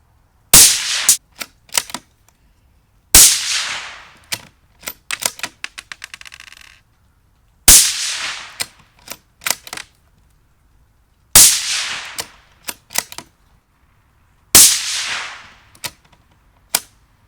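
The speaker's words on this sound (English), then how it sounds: "And we're ready to shoot." Repeated crisp, sharp shots from a Savage B Series Precision Lite rifle in 17 HMR sound at an outdoor range, five loud reports spaced a few seconds apart, each followed by rapid metallic clicks of the bolt being worked.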